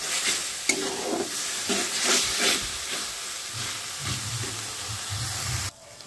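Chopped tomatoes frying and being stirred in a pan for a maize and boiled potato curry, a steady sizzling hiss broken by scraping spoon strokes, close up, cutting off abruptly near the end.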